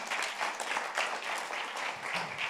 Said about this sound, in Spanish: Le da ese aplauso, Señor.